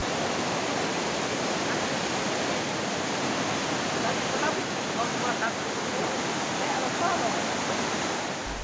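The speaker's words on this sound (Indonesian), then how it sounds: "rumah warga beserta isinya hanyut terbawa arus banjir" Flash flood water surges as a strong current past village houses in Bone Bolango, a steady loud roaring rush that continues unbroken throughout.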